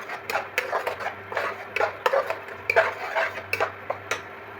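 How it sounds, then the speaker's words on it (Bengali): Onion paste with chillies cooks in oil as a utensil stirs and scrapes around the pan in a quick, uneven run of close clinks and knocks over a low background hiss, with no talk. "দেওয়ার পর আমি একটু ভেজে নেব, পেঁয়াজটার একটু কাঁচা গন্ধটা দূর করবো"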